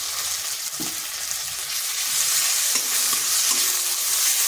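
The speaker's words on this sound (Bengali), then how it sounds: "দুটোকেই আর একটু ভেজে নিচ্ছি আদা রসুনের কাঁচা গন্ধটা যাতে চলে যায়" Onion fries with garlic and ginger paste in a pan, giving a continuous close sizzle that builds slightly louder, with a few scrapes and knocks of a spoon stirring, and no talking.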